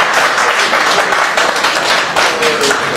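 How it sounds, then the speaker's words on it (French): An audience at an album presentation in Paris applauds loudly and steadily, a dense wash of clapping that holds for several seconds at close range. "Est-ce qu'on peut l'applaudir très fort?"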